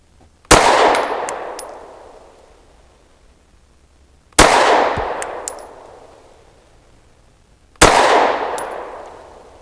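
Three sharp, loud pistol shots from a PSA Dagger Micro C1 firing Federal HST 124-grain tactical rounds, spaced several seconds apart outdoors, each with a long ringing decay and faint metallic pings after.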